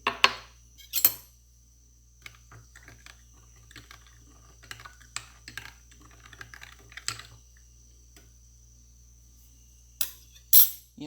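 A spoon stirring ice-cold water in a container makes faint, scattered clinks and taps. Louder clattering bursts come at the start and end, with quiet room tone between.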